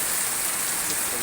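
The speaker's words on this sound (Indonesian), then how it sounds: "Kehujanan ya." Heavy rain pours down in Cikarang, a dense, steady hiss with no break over a brief moment.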